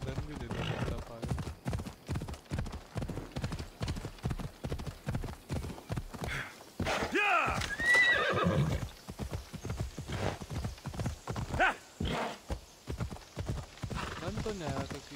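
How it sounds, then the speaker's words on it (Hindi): Horse hooves clip-clop in a quick, steady rhythm with an occasional whinny in Assassin's Creed Odyssey, heard under a person talking almost continuously. "घोड़ा बेचारा अपना अटक गया।"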